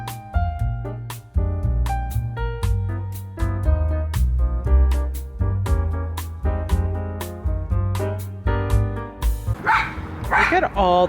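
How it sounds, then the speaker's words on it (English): Several dogs bark loudly and repeatedly while playing outdoors on a patio, a fast run of sharp, overlapping yips and barks close by, with some higher yelps toward the end. "excuse my dogs, they are so loud."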